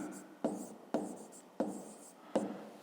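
Pen writing out a fifth-grade maths answer on paper: four short scratchy bursts of strokes, close and soft, each starting sharply and trailing off, with quiet pauses between them and no talking.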